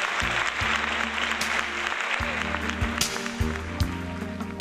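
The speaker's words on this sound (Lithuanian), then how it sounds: "Na, o lydimas jūsų aplodismentų, aš noriu pristatyti penktąją pretendentę" Audience applause for a contestant at a city woman-of-the-year pageant, steady loud clapping from a crowd throughout, with sharper individual claps standing out and no break.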